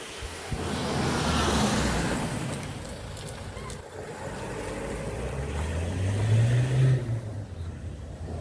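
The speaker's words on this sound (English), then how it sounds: "Pretty much 3/4 of the force patrol cars going out." Several police patrol cars pulling out of a police station one after another, engine and tyre noise swelling and fading at moderate distance with a rising engine note near the end, over steady outdoor wind-like background.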